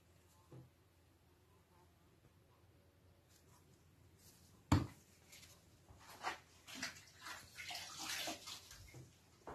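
Gun barrels being washed by hand in a bucket of warm soapy water, with soft sloshing and splashing that grows busier and louder in the second half after a sharp knock.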